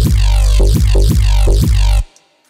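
Synthesized neurofunk bass layer playing a gritty, pulsing pattern with rhythmic throbs, loud and up close, cutting off abruptly near the end.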